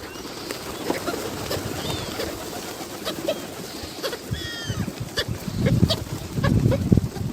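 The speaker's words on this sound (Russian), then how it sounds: "Они болеют, что ли? Почему они так крякают?" City pigeons giving odd coughing, croaking calls, several short rough bursts close by over outdoor background noise, with a few thin chirps from other birds.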